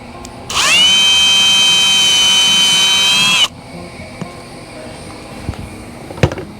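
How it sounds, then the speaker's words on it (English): A power drill pre-drilling a screw hole for an RV window awning whirs loudly for about three seconds at a steady high speed, then stops, leaving quiet room noise and a few small knocks. "I'm going to pre-drill."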